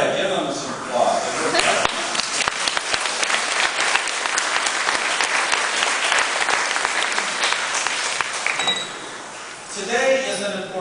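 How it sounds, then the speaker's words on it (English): A large audience breaks into sustained applause at a formal ceremony marking a historic apology, with dense clapping and cheering holding steady for about nine seconds before tapering off as a voice resumes speaking. "give them some applause"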